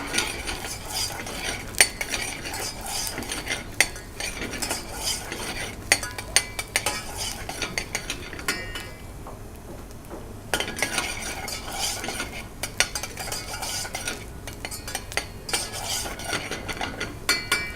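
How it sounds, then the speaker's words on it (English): Onions frying in a pan are stirred continuously, the utensil scraping and clinking against the metal in quick, close strokes over a soft sizzle, with a brief quieter pause partway through. "Keep on stirring the onions so it doesn't."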